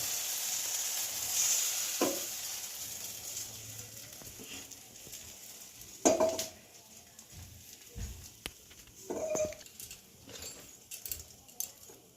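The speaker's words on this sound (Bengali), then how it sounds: "এবার আমি ছোট ছোট অমলেট করে নেব।" Small omelettes of egg and cornflour batter fry in a pan, a soft, low sizzle running throughout with a few sharp clinks and taps of a utensil, fairly quiet and without talk.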